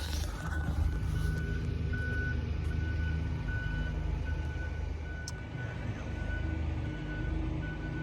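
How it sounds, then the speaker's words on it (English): A forklift at a boat marina sounds regular reversing beeps over a steady low motor rumble. The beeps are moderately distant and continue evenly throughout. "I hear the forklift."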